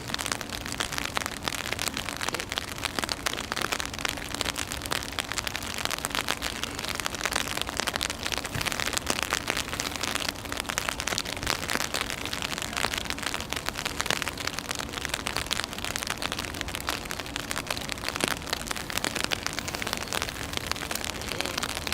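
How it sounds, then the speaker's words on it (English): Steady rain pours straight down on an outdoor football pitch during a National Premier League match, a dense continuous hiss of drops with no letup throughout. "Some more steady rain now, coming straight down."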